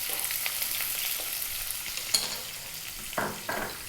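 Onions hitting a hot pan on high heat for a vegan mushroom curry give a steady broadband sizzle with a few sharp clinks and stirring knocks near the end, moderately quiet and close.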